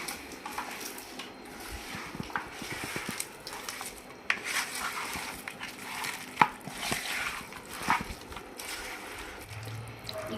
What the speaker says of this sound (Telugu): ఇప్పుడు అన్నిటిని మంచిగా మిక్స్ చేసుకోండి